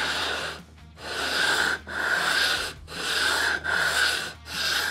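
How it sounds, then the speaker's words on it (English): Sandpaper rubs back and forth across inlays on a guitar fretboard in a steady rhythm of broad, hissy strokes with brief pauses between them, close and fairly loud with no talk. "I'm not pressing down almost at all because I want the sandpaper to do the work and not me."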